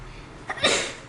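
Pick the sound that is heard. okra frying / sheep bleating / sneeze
sneeze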